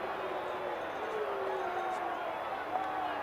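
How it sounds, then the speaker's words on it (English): Crowd at a RWBY tournament booing after an upset victory, a steady dense roar of many voices throughout with faint individual shouts. "Listen to that crowd boo."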